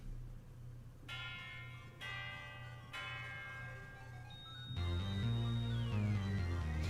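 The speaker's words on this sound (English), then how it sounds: "I mean the chimes right there, that doesn't really sell me on it." Bright bell-like chimes ring in the Pokémon Omega Ruby and Alpha Sapphire Deoxys theme, struck in three sustained metallic hits over a low droning bed, then giving way to a fuller synth passage with a gliding high tone.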